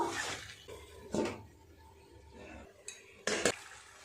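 A lid set over a pan of chicken being cooked down. Several short metallic clanks and clinks of cookware are heard, with the loudest pair near the end. There is no speech.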